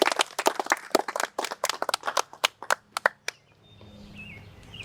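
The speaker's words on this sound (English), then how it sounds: "Give him a round of applause." A small outdoor crowd gives brief applause at a Lions Club kayak launch ribbon cutting, with close, distinct claps that quicken, thin out and stop after about three seconds, leaving quiet ambient noise.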